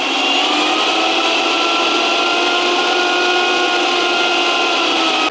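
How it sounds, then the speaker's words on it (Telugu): A Prestige 1000W mixer grinder with a pure copper motor runs steadily and loudly, a continuous smooth whirring hum with stable tones and no pauses or voices. "మిక్సీ అయితే చాలా స్మూత్గా ఉందండి. నార్మల్ మిక్సీ మాదిరి హెవీ సౌండ్ రావడం లేదు."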